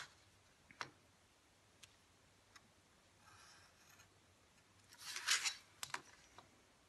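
Scissors cut through a paper card for a scrapbooking peek-a-boo card: a few sparse snips and ticks early on, then a louder, denser burst of cutting near the end, close and with no talk.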